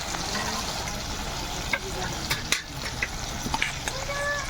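Ginger and garlic fry in a pan with a steady sizzle and stirring scrapes, then boiled potatoes tumble in with a few soft clatters, close and moderately loud.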